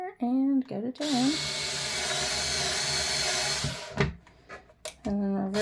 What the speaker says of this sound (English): I'm going to go ahead and drill my holes